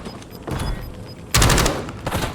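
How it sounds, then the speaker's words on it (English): Rapid submachine gun fire in a multiplayer shooter comes in dense, loud bursts. A short rattle is followed by a harder, sustained volley and one more brief burst, with no talking. "Yes, submachine gun."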